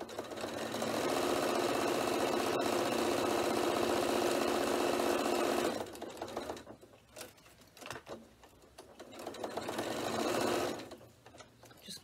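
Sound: sewing machine stitching a bag

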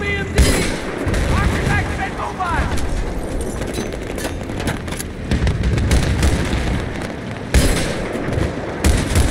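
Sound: gunfight gunfire in video game Battlefield 3

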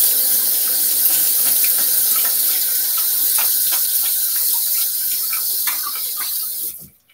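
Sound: rinsing razor under running tap water

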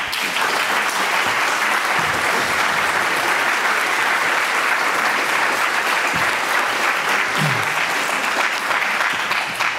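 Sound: audience applause welcoming artist Richard Tuttle

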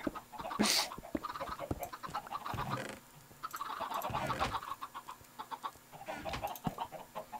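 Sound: chicken clucking in a video game

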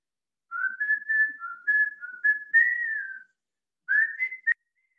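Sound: whistling imitating a songbird

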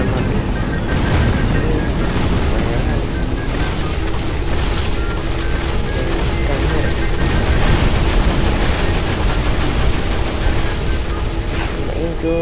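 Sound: gunfire in video game Free Fire

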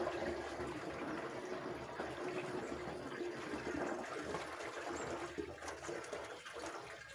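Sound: catfish pond water being poured into a bacteria mixture

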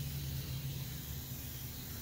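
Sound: spraying liquid from a garden sprayer

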